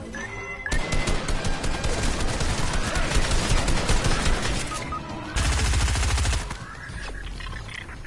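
An SMG in a video game fires in rapid sustained bursts, loud and close, with a short pause before another heavy burst, and no talking over it.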